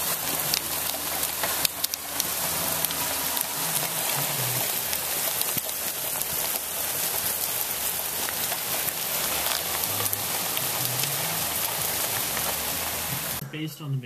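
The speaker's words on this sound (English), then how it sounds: "So, it's actually pouring right now. That's a good rain." Heavy summer rain pours steadily outdoors, a continuous dense wash of drops on surfaces that stays loud and even throughout, with faint bits of speech in the background.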